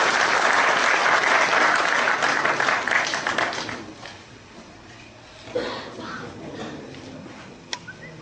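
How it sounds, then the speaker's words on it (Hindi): A large audience at a public talk gives loud applause to welcome guests, sustained for a few seconds before fading to scattered claps and room noise. "आप सभी से अनुरोध है, जोरदार तालियों से स्वागत करें।"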